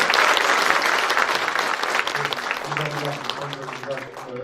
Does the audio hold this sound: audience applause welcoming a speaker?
yes